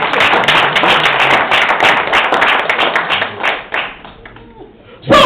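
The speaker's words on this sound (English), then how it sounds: "give me a clap and a shout here" An audience at a church seminar claps loudly and steadily for about four seconds, the dense clatter of hands thinning out near the end before a brief burst returns.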